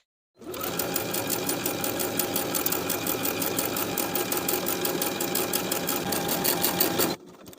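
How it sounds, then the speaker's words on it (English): A sewing machine runs a stretch stitch along the waistline seam of a knit wrap jumpsuit, a fast, steady mechanical whirr with rapid rhythmic needle ticks that starts abruptly, runs close and continuous for about seven seconds, then stops. "We can sew around the waistline seam with a 1/4 inch seam allowance and your stretch stitch."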